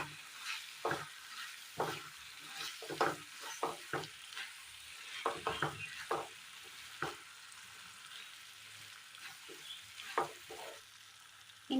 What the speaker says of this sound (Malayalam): വഴറ്റി വെച്ചിരിക്കുന്ന മസാലക്കൂട്ടിലേക്ക് വേവിച്ച നൂഡിൽസ് ഇട്ട് കൊടുക്കാം. നല്ലതുപോലെ ഒന്ന് മിക്സ് ചെയ്തെടുക്കാം.